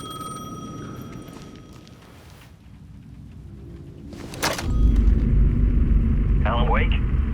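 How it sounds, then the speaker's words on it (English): Payphone ringing in Alan Wake 2, its shrill bell chiming briefly near the end over a loud, rumbling game soundscape with a sharp burst just before it. "The payphone was ringing again."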